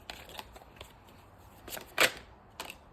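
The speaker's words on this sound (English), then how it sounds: "Shuffle for Pisces." Tarot cards are shuffled by hand in a short run of crisp riffling and slapping bursts, close and moderately loud, with one sharper flutter standing out in a quiet room.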